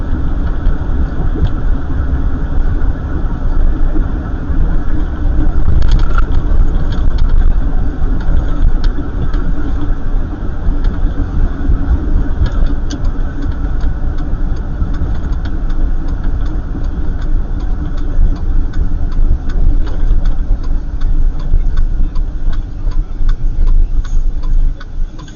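Car engine running while driving a short spin around a small town, a steady mid-pitched drone with faint ticking throughout, loud and close, no voices.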